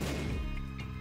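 Troll bombs in The Binding of Isaac burst in a loud, heavy crash that fills the brief moment and decays quickly, with a smaller thud close after.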